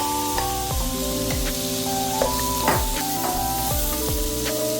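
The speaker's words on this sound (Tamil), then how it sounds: "இப்போ வந்து நம்ம போட்டது பட்டரில் இந்த பட்டை லவங்கம் இந்த ஜீரகம் எல்லாமே பொரிஞ்சிடுச்சு. இப்போ நம்ம ஆனியன் போடுறோம்." Onions sizzle and fry in butter with cinnamon, cloves and cumin, a loud steady hiss close by, broken by a few sharper crackles and stirring clatters.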